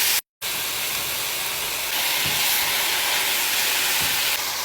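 Cheesesteak meat cooks in a pan with a steady, loud hiss of steam and sizzle, continuous apart from a brief cut near the start, with a few faint soft knocks.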